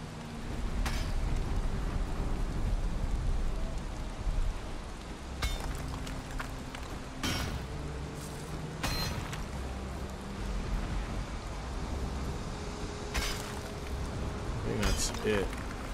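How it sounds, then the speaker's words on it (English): Steady in-game rain hisses through a Valheim storm, a constant wash with intermittent sharper bursts and clicks layered on top, while a player talks over it at moderate level. "Raining bad. It's raining bad."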